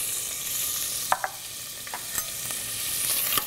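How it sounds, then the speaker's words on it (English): Chopped smoky bacon crackles in olive oil in a pan, a steady low sizzle with a few sharp pops and utensil scrapes spread through, fairly close and with no talking. "I'm going to add a couple of tablespoons of olive oil, and then I'm going to add some really nice chopped smoky bacon."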